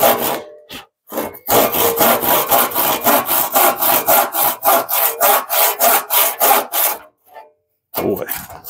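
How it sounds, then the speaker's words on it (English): A hand crosscut saw, sharpened by hand, rips through a wooden board in about twenty quick, loud, even back-and-forth strokes, with brief pauses before it starts and after it stops. "I'm going to use this crosscut saw, which I sharpened myself, so it's probably going to make a terrible cut."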